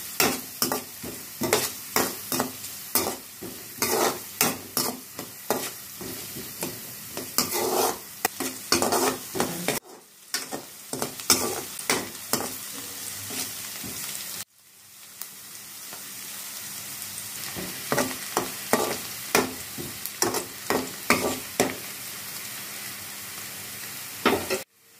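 Sliced onions fry and sizzle in a pan as a spoon repeatedly scrapes and stirs them, giving rhythmic clattering strokes over a hiss, with a brief pause midway before the stirring resumes; no voices.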